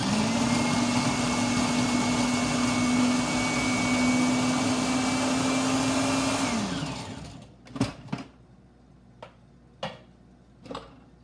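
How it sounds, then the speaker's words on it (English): A food processor chops onion and tomatoes for salsa, running in one loud, steady whir for several seconds. The motor then winds down and cuts out, followed by four short, separate pulses with quiet gaps between them. "we're going to pulse it till the onion's finely chopped and the tomatoes all pureed"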